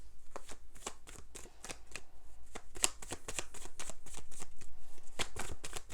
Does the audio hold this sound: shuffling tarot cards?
yes